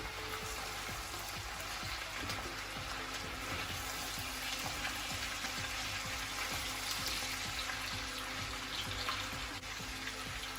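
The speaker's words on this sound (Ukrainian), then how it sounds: "І тепер ми нашу картоплю перемішуємо." Potatoes with garlic and spices sizzle steadily in a frying pan while being stirred, a constant close hiss of frying with repeated soft scraping strokes of the utensil, no talking.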